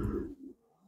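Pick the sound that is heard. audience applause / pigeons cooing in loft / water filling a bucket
pigeons cooing in loft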